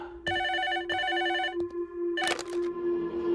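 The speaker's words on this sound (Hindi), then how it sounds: "ये फोन तेरे लिए है, जा जाकर उठा।" A telephone rings in repeated electronic trills, two clear bursts then another, fairly close, with a tonal hum underneath.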